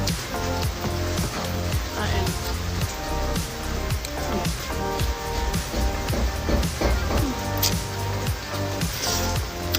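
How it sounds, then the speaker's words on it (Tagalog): Rain falls steadily in a village setting, a dense hiss and patter that fills the whole stretch, with a brief spoken word over it. "Umuulan ngayon."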